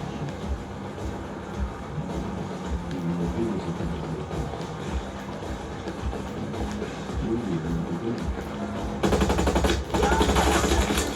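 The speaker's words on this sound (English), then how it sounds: "Shooting." Sustained automatic gunfire rattles through a firefight in Ghost Recon Breakpoint, dense and continuous for the whole stretch, swelling to a harsher, louder burst near the end.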